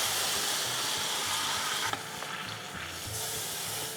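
Corned beef sears fat side down in canola oil in a hot cast iron pan, giving a steady, loud broadband sizzle with a brief sharp crackle partway through, no voices.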